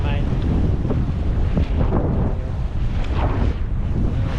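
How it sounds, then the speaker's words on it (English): A sailboat motoring under a full-size jib and a single reef in the main, heading from Marsden Point toward Kawau Island; loud wind buffets the microphone over rumbling engine and water noise, with no clear talk. "It's got her nicely motored now with full-size jib and one reef in the main."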